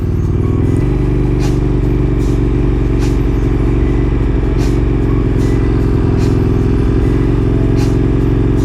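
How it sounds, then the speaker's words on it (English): A motorcycle engine runs loud and close at low throttle, pulling away slowly with the clutch partly out, holding a steady idle-like drone with slight rises in pitch. "slowly give it a little bit of gas. Don't let the clutch out all the way, and then you start going"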